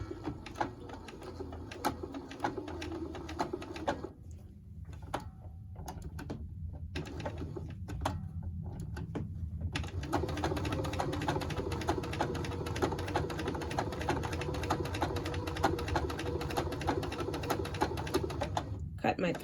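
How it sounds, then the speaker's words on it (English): A sewing machine runs a triple stitch to close a zippy bag, its rapid needle chatter continuing in bursts with short pauses and a longer steady run, while a person talks over it. "I'm going to leave my triple stitch on"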